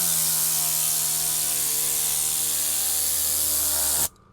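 Tornador air cleaning tool blasting compressed air to blow debris out of a car interior, a steady loud hissing roar with a faint whine that runs continuously and cuts off abruptly near the end.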